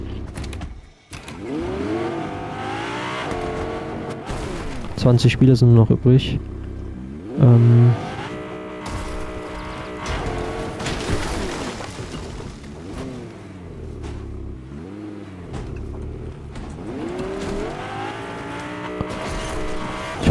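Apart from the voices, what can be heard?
car driving in Fortnite video game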